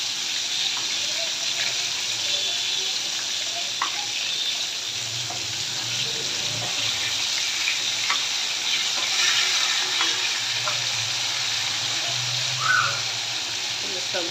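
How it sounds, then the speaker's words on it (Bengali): Hilsa fish frying in oil, a steady close hiss and bubbling sizzle that continues evenly throughout with faint occasional clinks. "মাছ ভাজা হয়ে গেছে"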